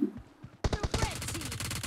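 Gunfire in PUBG Mobile during a team deathmatch, a rapid automatic burst of sharp shots after a few scattered single cracks, with a voice talking over it.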